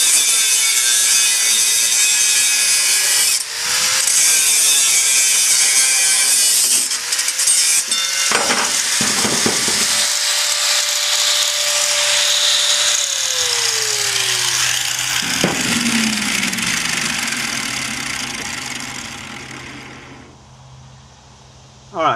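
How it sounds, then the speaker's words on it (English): Power tool scoring around and cutting off a metal lid on a homemade gasifier build, a loud continuous grinding whine that shifts in pitch as the blade moves, then trails off near the end. "I'm going to score this all the way around and remove this lid"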